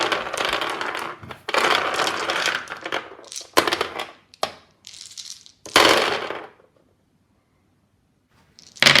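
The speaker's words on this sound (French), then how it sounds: "on va voir tout de suite ce qui se passe quand on jette ses dés sur ces différents tapis" Several bursts of dice clattering and rolling onto different wargame mats, including vinyl and neoprene, separated by short pauses, close and fairly loud, ending in silence before a final rattle.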